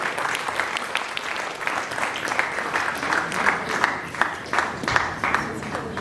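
Crowd applauding during a prize-giving at a philatelic stamp exhibition, steady rippling clapping from an indoor audience with some faint voices underneath.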